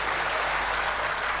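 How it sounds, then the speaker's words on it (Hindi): Audience at a Hindi poetry recital on Maharana Pratap claps in a dense, sustained burst of applause that fills the room evenly from start to finish, with no voices over it. "बाकी बड़ी भक्त वाली तालियां चाहिए मुझे।"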